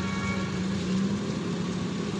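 A car engine hums steadily at low revs during a driving lesson on an uphill slope, with the accelerator pressed gently; the drone stays close and moderate in loudness, with no voices over it.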